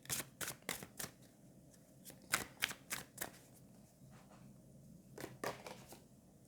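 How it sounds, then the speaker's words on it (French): Tarot cards being shuffled and drawn, a run of crisp riffling bursts and flicks in quick uneven clusters, close and fairly quiet, with no talking. "Je vais prendre une autre carte et on arrêtera avec le tarot"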